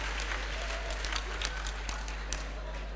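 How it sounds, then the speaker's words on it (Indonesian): A church congregation at a healing and testimonies service in Jakarta, Indonesia applauds, with scattered sharp claps over a steady low hum, fairly faint and somewhat distant. "Kita berikan tepuk tangannya meriah bagi Tuhan kita."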